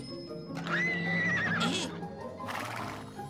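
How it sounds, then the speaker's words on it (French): A pony lets out a single clear whinny that rises and wavers, followed by a short snort-like burst over a steady low background hum. "Et un poney."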